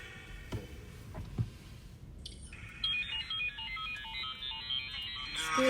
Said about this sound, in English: Excuse that, I had a text message.